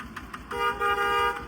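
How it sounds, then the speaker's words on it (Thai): The horn on a homemade motocross vehicle gives one loud, close, steady honk lasting about a second, following a few short knocks. "บีบแตรดิ"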